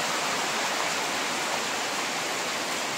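Steady monsoon rain falls in a dense, even hiss that runs unbroken from start to finish, with no voices or other sounds.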